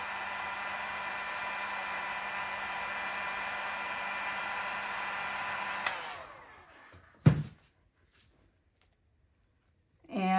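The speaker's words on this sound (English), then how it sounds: "take your heat gun, put a little heat on it" A heat gun blows with a loud, steady whooshing roar while warming resin paste, then shuts off and winds down, followed by a sharp click and brief handling noise; no voices.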